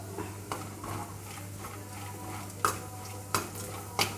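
Dry anchovy fish frying with curry leaves in a pan, a low steady sizzle broken by several sharp scraping stir strokes, close but soft.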